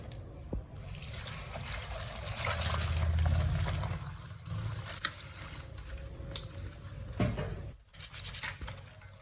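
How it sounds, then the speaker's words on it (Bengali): Flat beans are washed by hand in water, with a steady trickle and gentle splashing from close by and a few scrapes and knocks against the bowl. "এবার সিমটা ভালো করে ধুয়ে নেবো"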